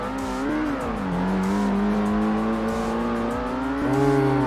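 Race car engine in the Ford Racing 1 game, a loud continuous high drone that rises and falls with gear changes and revving, steady and close, with no talk.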